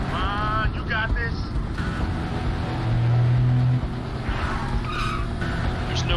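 Car and trucks roaring through a chase in the Quantum Break video game, with a steady loud engine drone and tire noise as voices speak over it.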